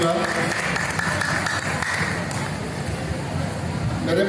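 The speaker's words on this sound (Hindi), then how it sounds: "इसके लिए जोरदार तालियों से मैं स्वागत करना चाहूंगा।" Sustained applause from an audience at a Lions Club regional conference in Tikamgarh, dense steady clapping filling the room with a murmur of voices beneath it.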